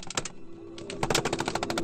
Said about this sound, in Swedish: observerade Krille, våran skytt i Patrian, ett 10-tal personer som dök upp bakom pipelinen och i samma stund öppnade eld mot oss.